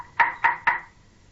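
Three quick knocks on a door in a radio drama, evenly spaced, crisp and close, followed by quiet.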